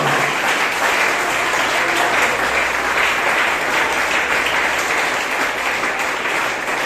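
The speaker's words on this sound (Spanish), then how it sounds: "¿Cuánto podemos dar un fuerte aplauso al Señor?" A church congregation breaks into loud, sustained applause during a worship service, a dense, steady wash of clapping that holds evenly for several seconds with no voices standing out.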